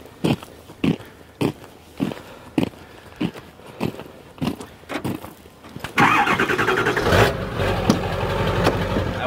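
Truck starter cranking in a series of about a dozen rhythmic, churning bursts before the engine catches and settles into a loud, steady running rumble nearby.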